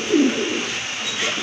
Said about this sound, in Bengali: এটাও কিন্তু চুইটার কবুতর।